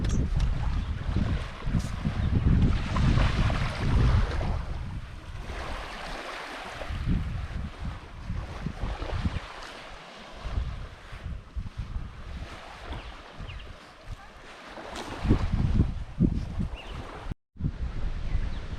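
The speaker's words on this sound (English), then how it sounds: "The beautiful Allow Beach." Wind and surf at Alau Beach on Cape York, a steady broadband rush of waves with gusty wind buffeting the microphone, loud and continuous, dropping out briefly near the end.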